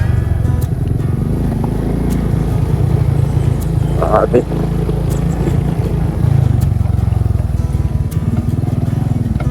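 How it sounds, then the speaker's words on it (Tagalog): A motorcycle-based tricycle engine runs loudly and steadily at close range on a rural road, with a low rumble and rattle throughout while people talk over it. "Ang tricycle nga."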